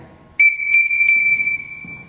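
Three short, sharp whistle blasts at an archery range, signalling archers to collect arrows, ring out close and loud in quick succession, then trail into a lingering tone with faint background noise.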